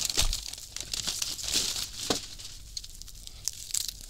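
Paper packing material being crumpled and torn while a knife box is unboxed, giving close, irregular crinkling bursts and rustles with brief tearing snaps and quiet pauses between handfuls.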